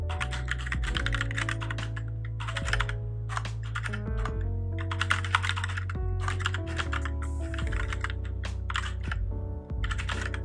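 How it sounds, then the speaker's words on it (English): Keys clacking steadily on a Kono keyboard in quick bursts of typing with brief pauses, close and alone, over a sustained low background tone. "the sound of the keyboard that you guys will be able to hear during my live streams and right now"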